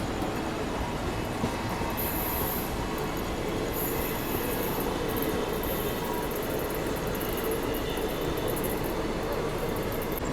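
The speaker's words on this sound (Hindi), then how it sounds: "तो ये है ग्वालियर प्रयागराज एक्सप्रेस।" Gwalior Prayagraj Express with ICF coaches rolling past, a continuous broad rumble of wheels and wagons with high metallic squeals flickering in and out, steady and fairly close for about ten seconds.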